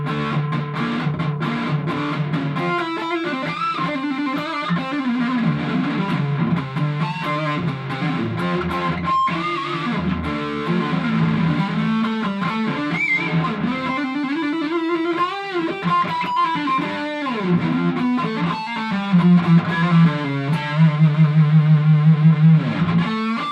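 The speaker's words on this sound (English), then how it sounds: "there's something quite unique about this guitar when you play it with distortion on the front pickup" A Silvertone Paul Stanley Apocalypse electric guitar plays through heavy distortion on its front neck pickup, with sustained, driven chords and riffs that ring out continuously and then move into a few repeated chugging notes near the end.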